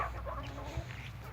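Faverolles hens cluck softly in a farmyard coop, a short low murmur of fowl sounds, fairly faint and steady with no talking.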